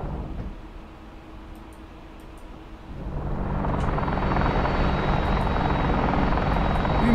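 An Apache helicopter flying close by: a loud rotor and engine roar that swells after about three seconds into a steady, heavy drone.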